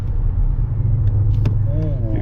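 Synthetic recuperation tone from a 2022 Mercedes EQS electric S-Class sedan's interior speakers while braking: a soft rising electronic hum that swells near the end over steady low road rumble inside the cabin.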